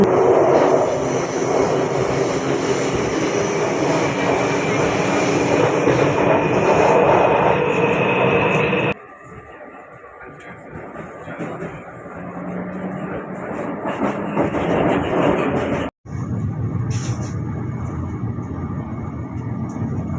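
Taipei MRT train ride toward Tamsui: a steady, loud rolling rumble of the carriage throughout, dropping quieter partway through and briefly cutting out before the running noise returns.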